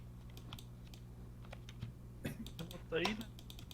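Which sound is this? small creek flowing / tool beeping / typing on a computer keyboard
typing on a computer keyboard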